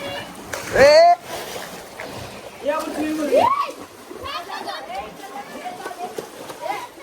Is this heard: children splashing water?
yes